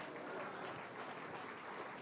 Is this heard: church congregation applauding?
yes